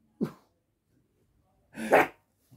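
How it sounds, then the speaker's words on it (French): A dog barks indoors: two sharp, fairly close barks about a second and a half apart, with the start of a third cut off at the end and no talking. "mon chien ne fait qu'aboyer"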